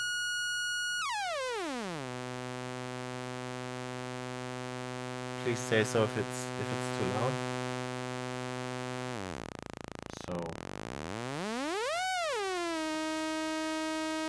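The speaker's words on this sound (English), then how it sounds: "This is the saw waveform, and this is the square waveform." A littleBits synth oscillator module produces buzzy, harmonic-rich saw and square tones that glide down in pitch, hold steady, cut out, then sweep back up, with brief talking midway through.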